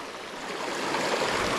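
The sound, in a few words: small stream flowing in Béarn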